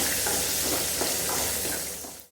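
Sizzling and crackling as something fries in hot ghee while sweet mung dal payasa is made, a dense, steady hiss close by that fades out at the very end, with no talking.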